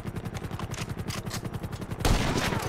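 Rapid automatic gunfire aimed at a helicopter pilot in GTA 5, a fast regular stream of shots close and steady for two seconds before a louder, denser burst of fire.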